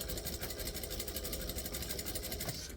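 A sewing machine runs steadily while stitching and back-stitching an Empress add-on bag, a continuous even whirr with a fine rapid pulse and no talking.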